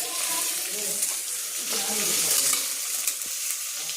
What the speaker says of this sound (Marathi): आता तेलामध्ये परतून घ्यायचे.